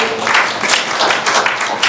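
Audience applause at a talk on NFTs and art fills the room, a steady close clatter of many hands with brief swells and little else audible.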